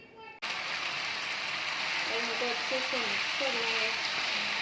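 Boiled macaroni being stirred into chicken gravy in a hot pan for chicken spaghetti, giving a steady, close sizzle throughout with faint scraping and stirring noises toward the end.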